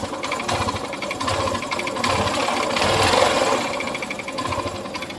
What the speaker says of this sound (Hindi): देखिए मैं जब एक्सीलेटर थोड़ा ज़्यादा करके खींचता हूँ तो ये दब रहा है